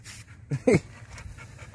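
A dog panting in short breathy bursts close by, quiet, with a louder huff in the middle and faint background noise.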